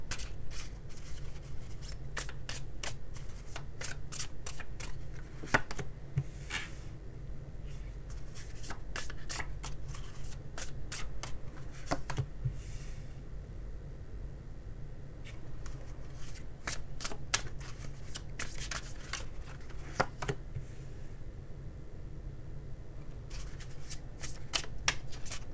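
A deck of tarot cards with animal pictures is shuffled by hand for a long stretch, giving quiet, continuous papery riffling and crisp flicks with no talking.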